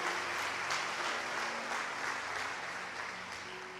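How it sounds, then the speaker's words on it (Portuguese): A church congregation claps together in praise, a sustained wash of applause that holds steady and slowly fades a little toward the end. "Então aplauda Jesus para dar um brado de exaltação ao nome dele"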